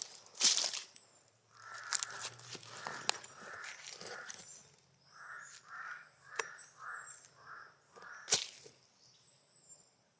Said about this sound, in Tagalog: Yung mga uwak yung nagtuturo ng location natin.